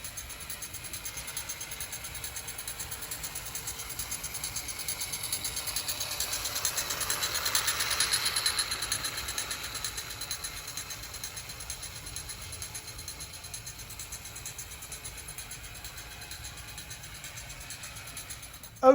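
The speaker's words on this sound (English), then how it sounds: "the engine's rolling around pretty good without any problems at all" A small battery-powered Bright Wintersville toy train engine runs around a track loop, a steady faint whirring motor with rapid rhythmic clicking of wheels on rails, swelling louder as it passes near, then fading back.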